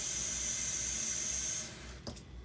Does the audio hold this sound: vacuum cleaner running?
no